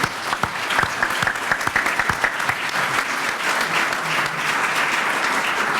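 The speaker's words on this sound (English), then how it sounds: "let's give each other a round of applause." An audience at a healthcare ethics event claps together. The applause is loud and full, with sharp individual claps standing out at first before it settles into a continuous, even roar.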